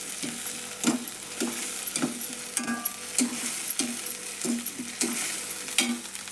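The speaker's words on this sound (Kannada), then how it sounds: "ಇದನ್ನು ಎಣ್ಣೆ ಒಳಗೆ ಫ್ರೈ ಮಾಡ್ಕೊಳ್ಳೋಣ್ರಿ" Spice paste of chilies frying in hot oil for a healthy green gram gravy, with a steady close sizzle and repeated rhythmic scrapes of a spoon stirring the pan, no talking.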